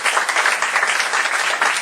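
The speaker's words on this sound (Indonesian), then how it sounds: "tepuk tangan buat Tuhan lah" Congregation applauding during a church service, a dense burst of clapping that stays loud and steady for a couple of seconds, close to the listener.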